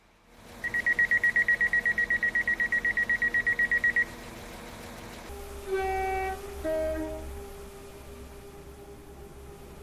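Stepford Connect train in the Roblox game Stepford County Railway: a steady run of rapid electronic beeps for about three seconds, then a pause and low humming tones with brief higher chimes as the train moves off.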